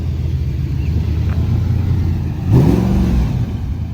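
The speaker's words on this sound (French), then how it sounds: "Avec une Renault 5 Turbo. Plutôt sympa. Et là une R8 V8 juste derrière." A Renault 5 Turbo and an Audi R8 V8 pass by on the road, a low engine rumble that rises into a louder revving sweep as one car goes close past, then settles back.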